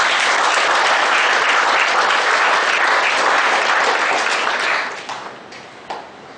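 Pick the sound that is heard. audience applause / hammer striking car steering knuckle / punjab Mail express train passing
audience applause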